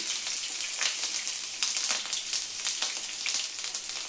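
Ginger and garlic sizzle in hot oil for a homemade date and lemon pickle, a steady crackling fry with small pops, close and fairly loud, with no voices.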